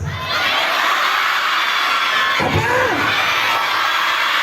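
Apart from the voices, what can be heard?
children shouting loudly in unison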